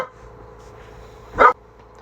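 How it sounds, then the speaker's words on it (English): A dog gives a single short, sharp bark indoors near the end, loud against a quiet room hum. "Okay, sorry about the dog."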